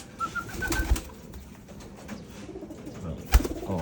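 Racing pigeons on a free flight coo and flutter close by, with a few sharp wing claps and soft calls over quiet background.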